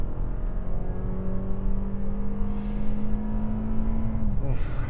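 A 2024 Toyota RAV4 TRD Off-Road engine drones steadily and then revs as it accelerates on a highway, heard from inside the cabin under constant road noise.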